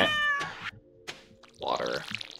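A cartoonish cat in the Stardew Valley farming game gives a short meow when petted, followed by brief game sound effects and a slightly longer second meow near the end.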